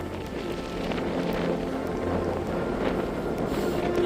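Wind gusts buffet the microphone in open countryside, a steady rough rumble with swelling gusts and no voices.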